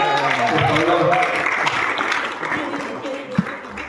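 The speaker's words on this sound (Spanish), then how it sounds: "aplauso fuerte a nuestra hermana Judy, por favor" A church congregation applauds loudly for a woman preacher, the clapping dense and steady for about four seconds with voices and a low hum running beneath it, and one sharp thump near the end.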